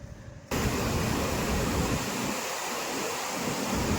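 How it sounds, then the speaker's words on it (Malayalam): A large river of snowmelt near Sela Pass on the way to Tawang rushes nearby as a loud, continuous broadband roar that swells in suddenly after a quieter half-second and holds steady. "അതിന് തൊട്ടപ്പുറത്ത് കൂടെ ഒരു നദി ഒഴുകുന്നുണ്ട് കേട്ടോ ഒരു ഗംഭീര നദി"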